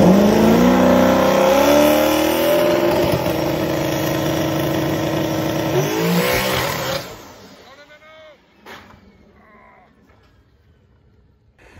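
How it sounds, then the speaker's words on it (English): A Dodge Demon 170 engine held on the trans brake at a drag strip roars loud and sustained, RPM stepping up, then cuts off abruptly into quiet background. "take the RPM up, maybe about 100 RPM"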